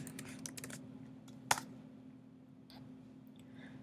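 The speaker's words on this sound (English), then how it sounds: "Once we finish typing the names" Computer keyboard typing while naming mixer knobs in Reason 10 software: a quick burst of soft key clicks at the start, one sharper click a moment later, then sparse faint taps over a low steady hum.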